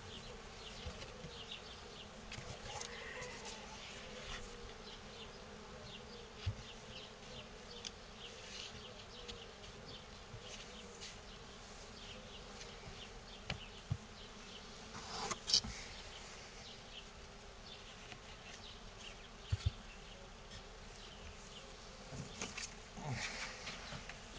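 Bees buzz steadily around an open hive on a warm day as a super is fitted, a dense close insect drone that continues throughout with small knocks and handling sounds.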